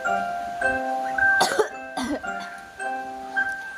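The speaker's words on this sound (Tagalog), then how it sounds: "Grabe yung ubo ko, hindi pa din nawawala." A few harsh, throaty coughs in quick bursts close to the mic, with a steady tonal hum and faint music in the background.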